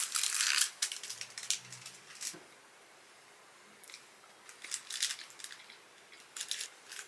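A chocolate bar's plastic wrapper is torn and crinkled open close by, in bursts of crackling at the start and again in the second half, with a quiet pause between and no talking.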